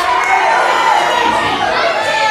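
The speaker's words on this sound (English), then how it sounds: "the crowd are absolutely erupted as Team GWA successful here tonight" A wrestling crowd at a UK show roars in a sustained, loud wave of cheering and shouting that fills the hall without letup.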